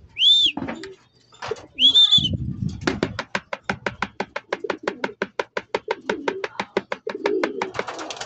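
Pigeons in a loft coo near and loud in two short calls, then a long run of rapid, evenly spaced wingbeats or flapping pulses fills the rest, with soft low coos underneath.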